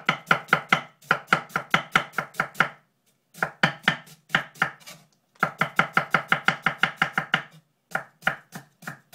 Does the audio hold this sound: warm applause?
no